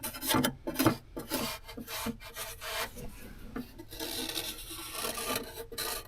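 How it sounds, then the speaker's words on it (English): Small pieces being ground off a metal part on a Jeep TJ, a rough rasping scrape in repeated short strokes, close and fairly loud with no talking. "Just got to grind little pieces off."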